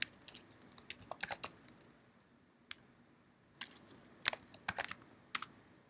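Close computer keyboard typing out a telnet command, with rapid clusters of key clicks, a pause of a couple of seconds, then another quick burst of keystrokes.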